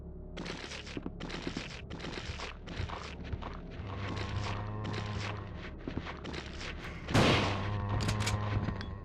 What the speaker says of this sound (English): No, I'll use a shotgun for this.